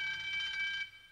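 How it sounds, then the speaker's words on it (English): An alarm in the video game Policenauts rings for a moment as a steady, high electronic trill, then cuts off abruptly into quiet. "Shit, the alarm!"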